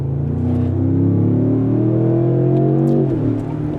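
A 2025 Range Rover Sport SV with a 635-horsepower 4.4-liter V8 drones loudly under load, a deep steady engine note that holds and climbs slightly before easing off near the end, recorded close.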